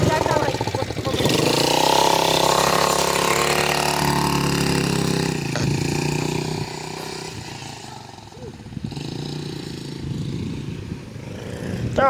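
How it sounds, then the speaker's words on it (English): An ATV four-wheeler engine runs close by as a steady, loud rumbling drone that eases off slightly toward the end, with people talking over it. "Let me get on the four-wheeler."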